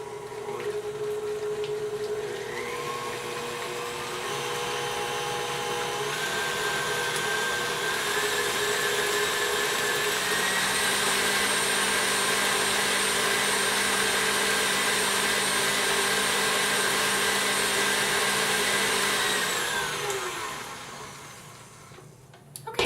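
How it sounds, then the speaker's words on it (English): An electric mixer beats butter for chocolate buttercream, whirring steadily and loudly for about twenty seconds before spinning down, with no talking. "We're going to just beat our butter for about 30 seconds."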